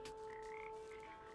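A frog in the Papo & Yo video game gives a single sustained croak, steady and droning over a faint background hum, with no talking.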